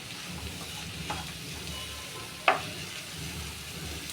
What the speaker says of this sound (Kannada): ಅದು ಸ್ಮೆಲ್ಲೆಲ್ಲ ಹೋಗೋವರೆಗೂ ಫ್ರೈ ಮಾಡಬೇಕಮ್ಮ?